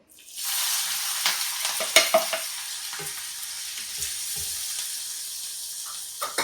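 Onions and green chilies hit hot oil in a pan, giving a steady close sizzle with a few stirring clatters and scrapes, no talking.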